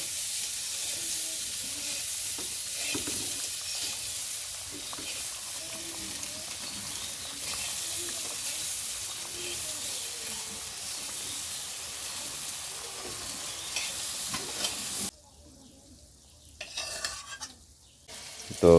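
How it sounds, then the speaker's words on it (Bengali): Bread gulab jamun sweets fry in oil in a wok, a steady close bubbling sizzle with light hiss that runs unbroken for most of the stretch, then drops away near the end to quieter clatter. "এই তেলের মধ্যে আমি এই মিষ্টিগুলো ভেজে নেব"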